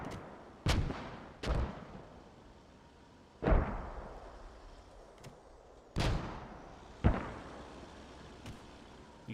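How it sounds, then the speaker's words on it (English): Heavy mortar and Sherman tank cannon fire in a Post Scriptum World War II battle, with about eight sharp booming blasts at irregular intervals, each rolling off into a long echoing tail over a low rumbling background. "Good mortar fire, good Sherman fire, Firefly fire."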